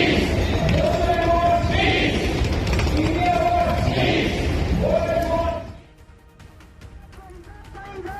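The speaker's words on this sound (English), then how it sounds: "rallies in Frankfurt where crowd marched with banners and chants against terror" A street protest crowd in Frankfurt marches and chants against terror, loud rhythmic collective shouting for several seconds before dropping abruptly to quieter background murmur.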